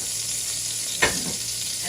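Oil being added to a hot wok while cooking spicy shrimp lo mein, a steady broadband sizzle with one brief louder splash, close up and with no talking.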